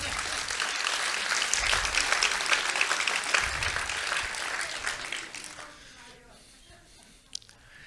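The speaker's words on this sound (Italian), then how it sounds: "Facciamo un applauso." Audience applause at a public talk with Gianluigi Nuzzi, dense and steady for about five seconds before thinning out and fading to near silence.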